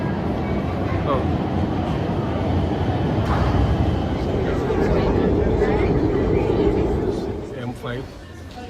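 A Milan metro M3 train pulls into a station with a loud, rumbling roar that swells, then eases and drops away near the end, while a voice speaks briefly over it.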